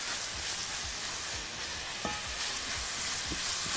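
Minced garlic and rice sautéing in a pan, a dense continuous sizzle with soft scrapes of stirring, close and steady without talk.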